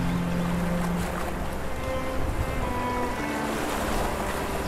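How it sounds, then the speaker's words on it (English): Loud ocean waves and surf wash continuously in the meditation game Playne, a steady rushing roar with faint wind and a few soft tonal hums underneath. "here we have the fairly loud wave sounds"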